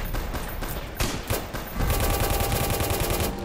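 Rapid automatic gunfire in a Minecraft World War II battle game, dense continuous bursts of machine-gun fire with overlapping shots, loud and close, growing heavier in the second half.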